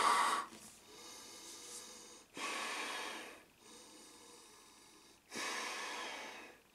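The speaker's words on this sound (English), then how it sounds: "let's put on this old mask pole Polish filter. Let's just purge the mask." Slow, heavy breaths rasp through an old Polish gas mask with filter fitted, each long airy exhale purging the mask, with quieter inhales between them, close and otherwise silent.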